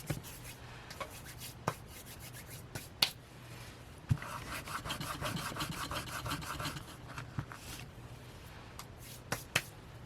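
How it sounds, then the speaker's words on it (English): Fingertip rubbing off excess Fabri-Tac fabric glue, a soft, close scratchy friction in uneven bursts with a few sharp clicks, sounding alone without speech. "trying to get this glue off my finger"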